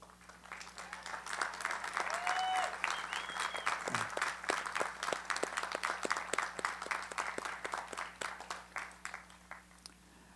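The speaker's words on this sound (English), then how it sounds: "I ask them to rise and accept our applause." Audience applause for college staff at a 2012 university commencement ceremony for a science and mathematics college, steady dense clapping from a large crowd sustained for about ten seconds, with a brief voice briefly audible early on.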